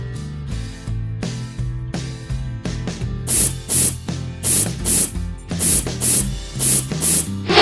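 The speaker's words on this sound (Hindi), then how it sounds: "इसे छन्नी की सहायता से स्प्रे बोतल में छानकर स्टोर कर लें" Sharp, repeated bursts of hiss come from a spray bottle filled with strained amla water hair toner, about nine quick pumps in a fairly even rhythm. Each spray is loud and close, with no talking.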